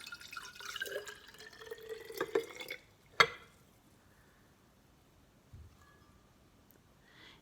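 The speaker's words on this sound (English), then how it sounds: "we're going to pour just plain water in our jar." Plain water poured into a glass jar that once held spaghetti sauce, a brief close trickle and splash lasting a few seconds, then a sharp clink and quiet drips in a still room.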